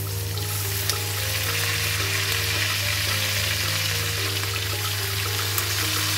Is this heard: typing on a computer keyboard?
no